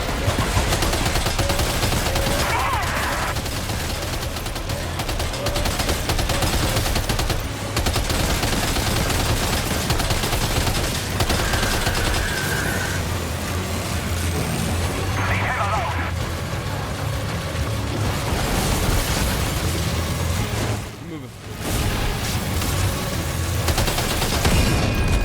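Machine gun firing in Death Stranding 2 gameplay, a loud continuous barrage of automatic fire filling the mix with brief pauses, with speech mixed in.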